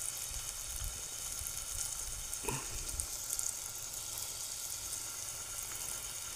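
Batter-dipped shiralya (ridge gourd) slices sizzling in oil on a griddle, a steady soft frying hiss with a brief clatter as a slice is set down midway.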